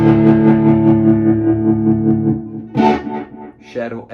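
An electric guitar through a tremolo pedal holds a distorted chord whose volume pulses in a quick, even throb. The chord then fades as someone talks over it.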